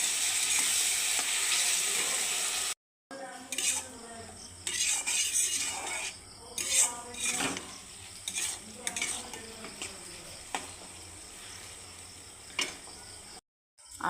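Sago with salt is stirred in a cooking pot over heat, with repeated scraping spoon strokes and clinks against the metal under a steady sizzle, broken by two brief silences.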